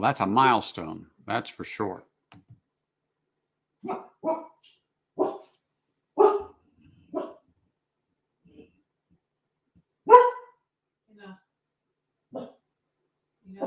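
A dog barks in short, separated bursts at a moderate distance, scattered irregularly, after a stretch of someone talking nearby.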